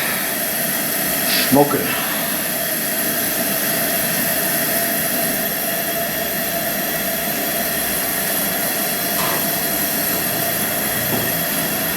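A Coleman camp stove burner roars steadily and loudly while bacon fries in grease on it, a constant broadband rush with a few brief sizzles and a short spoken remark over it.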